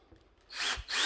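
A power drill drives a decking screw into the dead wood of a lemon tree bonsai, spinning up with a rising whir after a quiet start, close and alone.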